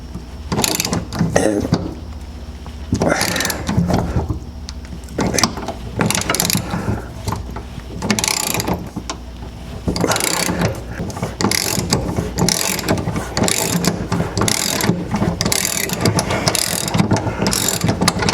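A ratchet on a 1/2-inch drive with a long deep-well socket works a stubborn bolt loose on a 1968 Chrysler Imperial Crown, producing repeated bursts of loud, close clicking strokes over roughly eighteen seconds, with no one talking.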